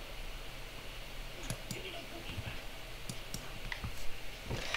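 Several sharp mouse clicks on a PC running the Roblox game Grumpy Granny, spaced unevenly over a steady background hum, fairly close and alone without talk.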